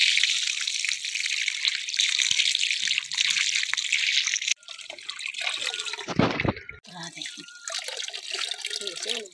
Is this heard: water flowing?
yes